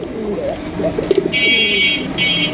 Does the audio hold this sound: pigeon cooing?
yes